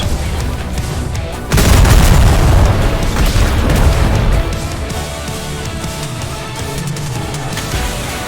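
Heavy booming cannon blasts in the video game Atlas erupt suddenly and keep rumbling, loud and close, like rapid artillery fire in a chaotic naval battle scene.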